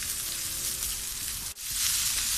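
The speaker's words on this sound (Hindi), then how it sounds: "और ये सारी सब्जियां अब हम तेज़ आंच पे करेंगे।" Vegetables fry over high heat for chicken fried rice, giving a loud, steady sizzle that breaks off for a moment and then returns even brighter.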